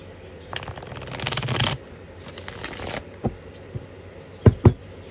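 Tarot cards shuffled by hand at close range, two riffling bursts followed by a few sharp taps and knocks as the deck is squared on a table.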